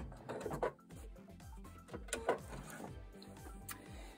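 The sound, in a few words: sewing machine sewing quilt binding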